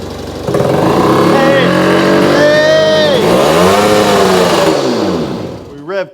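A 1967 Yamaha YCS1 motorcycle engine revs hard close by, pitch climbing and falling through several sweeping throttle blips before dropping off; a voice is heard near the end.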